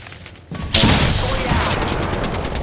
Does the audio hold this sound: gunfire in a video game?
yes